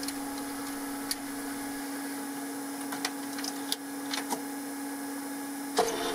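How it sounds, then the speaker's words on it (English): A U-matic tape deck goes through its unlace and eject operation with a steady motor hum and a series of small mechanical clicks and clunks. The clunks land at irregular intervals, ending in a louder thunk, and no one speaks. "Let me show you the unlace and eject operation."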